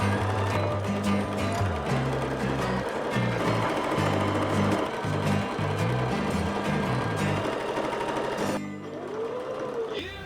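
A sewing machine stitches seams on homemade 1960s-style shorts, its motor whirring in pulsing bursts that start and stop, loud and close, before cutting off near the end.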